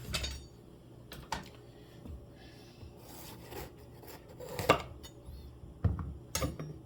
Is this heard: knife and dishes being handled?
yes